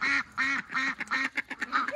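Ducks in a duck coop, where Welsh Harlequin ducklings are kept, give a rhythmic run of loud, nasal quacks close by, about eight calls in quick succession.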